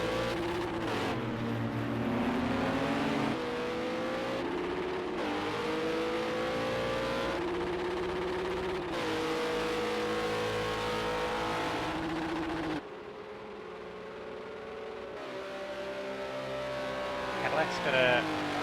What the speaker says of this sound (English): Cadillac's got a rather interesting engine noise, almost like it's sitting on the rev limiter for a little bit before it shifts over.